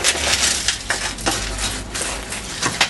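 Firewood is snapped and crushed for a cooking fire made for a Gypsy chicken dish, giving a loud, continuous crackling and rustling with sharp cracks scattered through.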